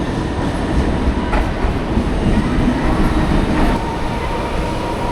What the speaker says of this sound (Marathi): नशीब बघा समोर लोकल पण आले